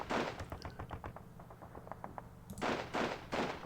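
Rifle and machine-gun fire in the wargame Squad Battles Winter War sounds as a quick train of dry reports, then a few heavier, louder shots toward the end, all fairly faint.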